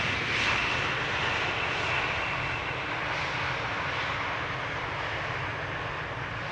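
Air France Airbus A220-300 jet arriving at Amsterdam Schiphol airport: a steady, loud, broad engine roar that holds evenly throughout with no break.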